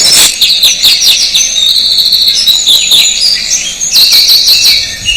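Blue tit singing outdoors in spring, with high repeated chirping phrases over a busy background of other birds, loud and continuous, no speech.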